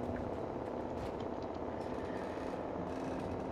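A chainsaw wielded by an enemy in Alan Wake drones as a steady, gritty buzzing rumble, continuous and fairly prominent throughout, with no talking over it.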